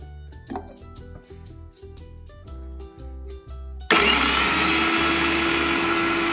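An electric mixer grinder starts up loud and steady, whirring as it grinds roasted cumin, coriander and fennel seeds, after a few seconds of quieter kitchen sounds.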